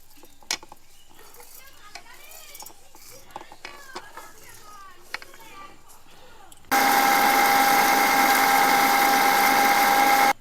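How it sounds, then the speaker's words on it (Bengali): A kitchen mixer grinder whirs loudly and steadily as it grinds a spice paste for a Bengali whole-eggplant beguni recipe, starting abruptly after a stretch of quiet clinks and a voice speaking. "এবার আমি মিক্সিতে দিয়ে বেটে নেব"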